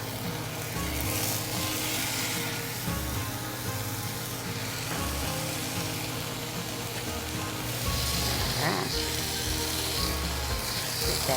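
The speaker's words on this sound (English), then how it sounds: "let's fry up some bacon" Strips of bacon frying in a hot pan, a dense, steady crackling sizzle that stays loud throughout, briefly brighter near the end, with no voices.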